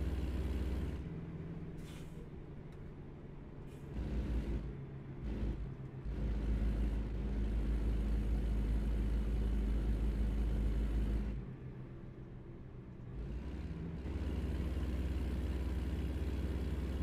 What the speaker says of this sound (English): Trucks passing trucks passing trucks, blocking the entire length of the roads.